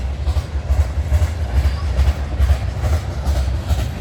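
A CN Rail train rolls past on the tracks at night, a steady low rumble with rhythmic wheel clatter repeating throughout, fairly loud and continuous.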